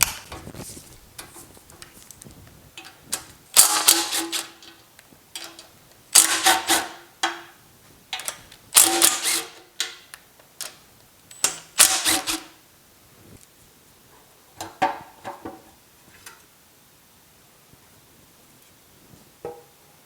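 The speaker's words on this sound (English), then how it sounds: "Let's go ahead and get the oil pump off. And get the windage tray off." Wrench and metal clatter from removing the oil pump and windage tray off a Pontiac V8 engine: loud, irregular bursts of clanks and scraping, close up, with quieter gaps and no talking.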